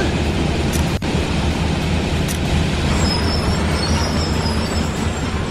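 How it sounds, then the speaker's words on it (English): Backhoe loader engine in a construction video game, a loud, continuous mechanical rumble with a steady, unbroken drone and no speech. "Backhoe."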